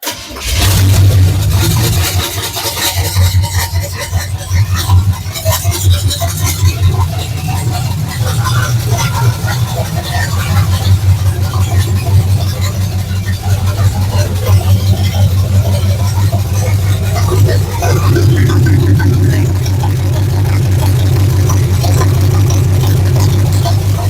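A car engine, its carburetor primed with B12 Chem Tool after a gas tank install at home, cranks briefly, catches and settles into a loud, steady low running idle that continues throughout.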